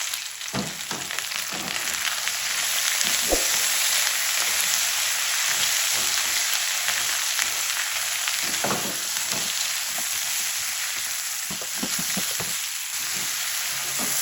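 Potatoes fry in a pan with salt and red chili powder, a steady broadband sizzle that holds throughout, broken by occasional stirring scrapes and taps. No one speaks.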